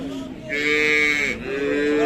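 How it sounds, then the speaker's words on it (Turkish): A Simmental cow with her calf beside her at the Şarkışla livestock market gives a long, loud, close moo that dips briefly in pitch before continuing, over steady market background noise. "bir tane simental inek"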